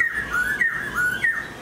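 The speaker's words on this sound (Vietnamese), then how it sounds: "Con chim rất là mau mỏ các anh em nhá." A caged laughingthrush calls close by in a clear, loud, repeated whistle, three gliding phrases that slide down and then jump back up, sung with no voices over it.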